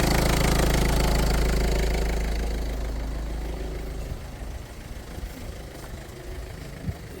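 A 1.4 HDI diesel car engine catches and settles into a loud, rough, knocking idle close by, then the clatter fades and becomes quieter and more uneven toward the end.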